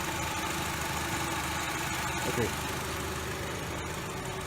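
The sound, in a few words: car engine idling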